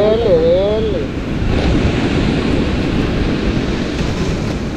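Waves wash along the seashore with a steady rushing surf and wind noise at close range, following a brief whistling sound at the start.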